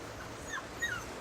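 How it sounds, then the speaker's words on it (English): Seven-week-old golden retriever puppy whimpering, two faint high thin whines over a quiet background in a short moment. "This is Killer, a 7-week-old golden retriever pup."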